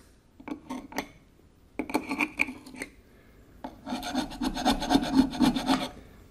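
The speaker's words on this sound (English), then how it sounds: "there's a little burr on this. Take that off with a file." A hand file rasps across a small burr on a water pump part from a Ferguson TO-20 tractor, close up, in short bursts and then a longer run of steady back-and-forth strokes.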